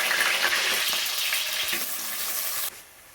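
Mustard, cumin and fenugreek seeds spluttering in hot oil for a village fish curry: a loud, dense crackling sizzle holds steady, then drops off abruptly near the end.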